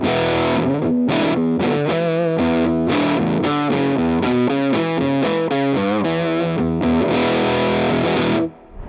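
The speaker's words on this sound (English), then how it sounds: "the Chthonic sounds like this." Electric guitar played through a DOD Chthonic fuzz pedal with its controls set around noon: a thick, saturated fuzz tone carrying a continuous run of loud chords and notes for about eight seconds, ending in a brief fade.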